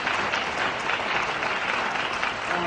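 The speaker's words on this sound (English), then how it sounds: "Can I get a round of applause for all nurses and caregivers?" Steady, dense audience applause for nurses and caregivers at a theatre talkback in New York, filling the room evenly throughout without voices.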